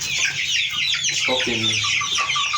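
Kuroiler chickens cluck and chatter together inside a busy poultry unit, a steady layered flock sound with a brief spoken word over it.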